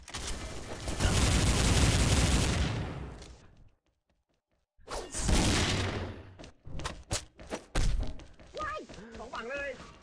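Bursts of gunfire in the shooter video game XSHOT: a long dense volley of rapid shots, a short silence, then more clustered shots and thuds, with a voice talking over the later part.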